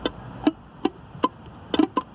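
Several short, dull muted guitar strums, about six percussive chops spaced unevenly, each quickly damped with no ringing sustain.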